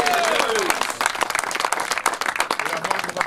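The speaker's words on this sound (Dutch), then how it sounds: "ik denk eerst een applaus voor de tweede" Applause from a crowd at a football club's season-closing event, dense clapping filling the room with a brief whistle or voice at the start and murmuring voices mixed in.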